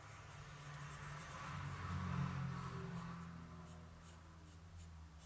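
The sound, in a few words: road traffic passing outside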